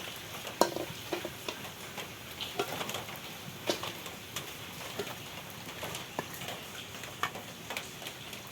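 Banana blossom fritters frying in oil, a soft even crackle with frequent small pops and ticks scattered throughout, close but fairly quiet.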